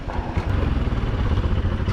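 A motorcycle engine rumbles steadily nearby, a low throbbing idle with faint clatter.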